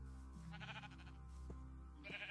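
A Minecraft goat bleats in a couple of short wavering calls, fairly close, over a low steady game ambience with no talking.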